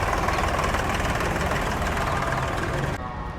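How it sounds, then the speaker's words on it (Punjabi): A Sonalika 35 tractor engine runs steadily at close range in Gosna village, a loud, continuous low rumble with a rough, knocking texture that cuts off abruptly near the end. "ਲੋ ਬਾਈ ਸੋਨਾਲੀਕਾ 35 ਅੱਜ ਚੱਲਿਆ ਗੋਸਣਾ ਪਿੰਡ"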